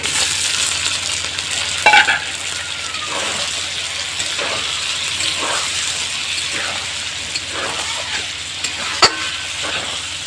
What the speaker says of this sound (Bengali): ভাজা মাংসগুলো দিয়ে দিলাম।